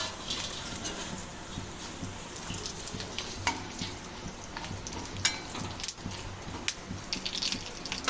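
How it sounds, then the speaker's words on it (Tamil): Fennel seeds, spices and cashews fry in a pan with a constant soft sizzle, broken by scattered louder crackles and occasional stirring clatter, heard up close. "கொஞ்சம் சோம்பு, கரா ஐட்டம், முந்திரி பருப்பு இதெல்லாம் போட்டு ஃப்ரை பண்ணிக்கலாம்."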